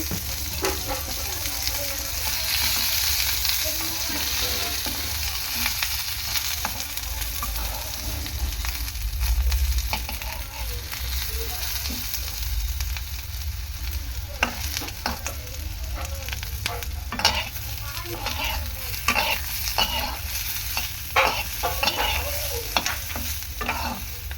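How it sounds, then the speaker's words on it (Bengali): Eggplant pieces fry in oil in a pan with a continuous soft sizzle, broken by repeated scraping and clicking strokes as a spatula stirs them. "বেগুনগুলোর মধ্যে আরেকটুখানি তেল দিয়ে দেবো, তেল ছড়িয়ে ভালো করে ভেজে নেব"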